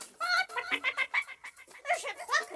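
A cartoon hen clucks in a quick series of bright, voiced cackles, close and clear in a French animated story, with no talk over it.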